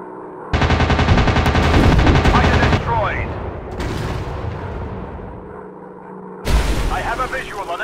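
Rapid automatic cannon fire from fighter aircraft in a 3D flight combat video game, loud dense bursts of gunfire lasting a couple of seconds, then a quieter stretch with a voice, followed by another burst near the end.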